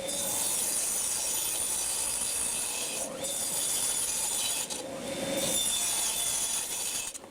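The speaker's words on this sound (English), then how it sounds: "then I'm just going to do a quick cross cut" A saw makes a quick cross cut through a wooden board for a storage tower build. It produces a steady, loud rasping that runs for about seven seconds, with brief dips near the three- and five-second marks.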